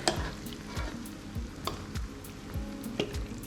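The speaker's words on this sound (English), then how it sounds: "Mix well." A spoon stirs cream and a couple of spoonfuls of Parmesan cheese through a potato gratin mixture, giving soft, regular scraping strokes roughly every half second over a low background hiss, close and steady, with no talking.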